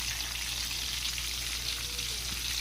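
Cabbage rolls fry in hot oil with a steady, even sizzle that holds at a moderate level throughout, with no voices.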